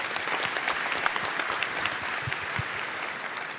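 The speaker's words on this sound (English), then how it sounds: "a big round of applause for all these entrepreneurs" An audience at a startup pitch competition semi-final applauds the entrepreneurs who pitched. The applause is loud and dense, a continuous wash of many hands lasting throughout.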